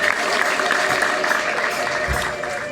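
A church congregation claps in steady applause, moderately loud and sustained for a few seconds, with a crowd murmur beneath and a high ululating tone running through it.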